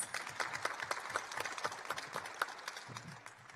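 At a panel discussion, a small audience gives light, scattered applause. The claps are distinct and fairly quiet, and they taper off near the end.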